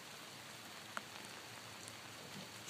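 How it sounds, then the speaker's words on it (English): Soft, steady rain patters on a surface outside a barn on a nasty day, faint and distant, with one brief drip-like tap standing out. "it's raining and nasty out today"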